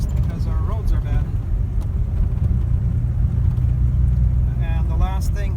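A 1946 Hudson Commodore 6 with a 3-speed manual is heard from inside while driving on rough roads, its steady low engine and road rumble carrying faint rattles as someone talks briefly over it.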